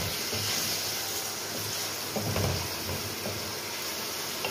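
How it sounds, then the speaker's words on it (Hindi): Ginger garlic paste sizzles and spits in a hot pan of chicken karahi as it is stirred in, a steady close crackling hiss with a brief louder swell of stirring midway. "2 टेबल स्पून अदरक लहसुन डाल देंगे और मिक्स कर लेंगे इसको"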